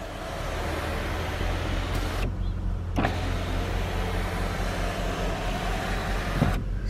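A car's electric sunroof motor runs in a steady, close mechanical whir with a couple of brief clicks and shifts partway through, alone without talk.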